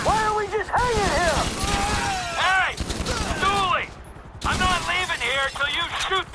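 Gunfire in the video game Grand Theft Auto V, sharp shots crackling under loud, nearly constant shouting voices, with one brief gap in the talk.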